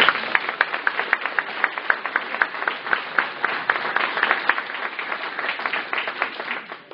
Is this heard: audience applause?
yes